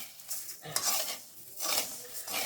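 Rice is stirred and dry-roasted in a pan for pongal, giving soft scraping swishes in a few uneven bursts, quiet and close, with no talking.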